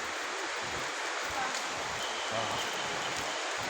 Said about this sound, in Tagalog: Dito kami sa Taytay Falls.